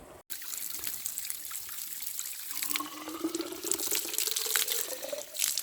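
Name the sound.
collecting water from a Carpathian spring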